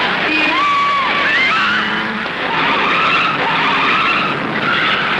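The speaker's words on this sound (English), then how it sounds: "there were some spectacular crashes at Bathurst, including this horrifying flip at Skyline" A race car tears across the track at Skyline, Bathurst, in a GT-era Ford Falcon race, tyres skidding and screeching continuously as it crashes and flips. The sound is loud and close, with engine roar throughout.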